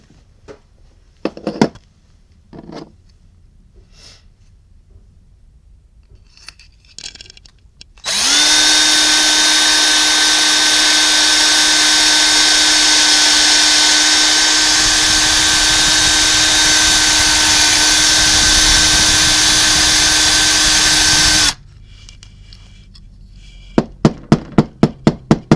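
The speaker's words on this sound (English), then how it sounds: "I'm going to abandon the hand twisting for the power drill" A power drill runs loud and steady for about thirteen seconds, clearing degraded flint from the tube of a vintage lighter, with a tonal whine over a broad grinding hiss; quieter handling knocks and taps come before and after.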